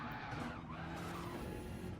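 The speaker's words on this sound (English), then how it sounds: "Now I'm braking because of the bend." A race car braking into a bend on the Nürburgring in Gran Turismo 7, tires skidding and squealing over a steady engine drone for about two seconds.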